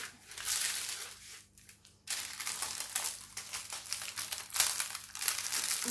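Paper crumples and crinkles close up in repeated bursts, stopping briefly before the rustling picks up again.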